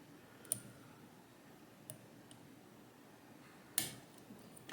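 Faint, sharp clicks as pins set while a DOM ix5kg lock is picked, a few isolated ticks spread out over quiet background, with one double click near the end.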